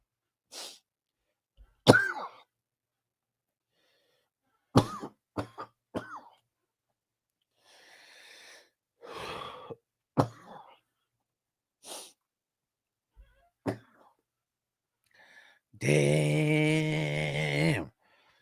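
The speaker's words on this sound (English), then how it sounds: "I can't stop coughing." Repeated harsh coughing in short bursts, close up, with a longer raspy coughing fit near the end; no talking.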